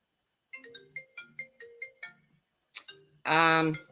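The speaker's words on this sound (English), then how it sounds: "phone's ringing." A phone ringtone plays in a repeating series of short melodic beeps, fairly close and clear, followed by a brief louder burst of tones at the end.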